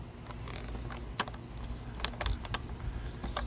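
Socket wrench tightening a crossbar bolt on a Toyota C-HR roof, giving soft close mechanical clicks and creaks in short irregular bursts over a low steady background, with no talk.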